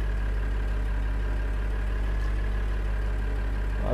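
A small tractor idles in Farming Simulator 2013 with a steady, low, droning engine hum. It runs evenly and uninterrupted at moderate loudness, with no talking.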